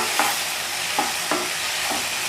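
Chopped onions and tomatoes frying in a pan for idli upma, with a spoon scraping and stirring in four distinct strokes over a steady soft sizzle, close by and without talk.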